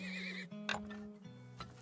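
A horse in the video game Turmoil neighs loudly and close, then hooves clip-clop briefly over a steady game music bed.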